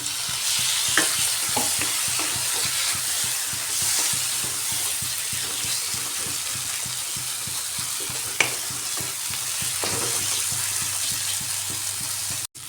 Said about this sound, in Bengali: এবার এর মধ্যে কেটে রাখা টমেটো দিয়ে দিচ্ছি